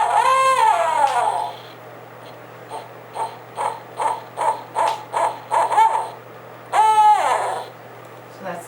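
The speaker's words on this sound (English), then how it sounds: "So that's the barred owl. That's just one of the noises that they can make." A barred owl calls in a backyard, with two loud, descending, wavering hoots that frame a run of shorter, evenly spaced hooting notes. The calls are clear and close against a quiet background.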